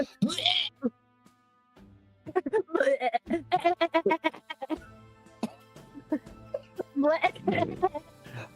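A person imitates a goat with wavering, quavering bleats in several rough bursts between stretches of talk, close and fairly loud, with other voices speaking around it.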